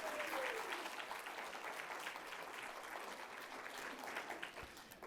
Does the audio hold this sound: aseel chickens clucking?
no